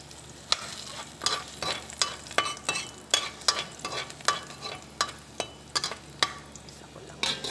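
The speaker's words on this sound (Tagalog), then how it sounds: "gigisa na lang natin yan bahagya sa bawang" Blanched broccoli sautéed with garlic in a pan, a soft steady sizzle broken by about a dozen sharp scraping stirs of a spatula at a brisk, uneven rhythm, close and fairly quiet, no talking.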